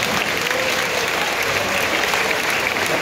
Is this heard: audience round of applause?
yes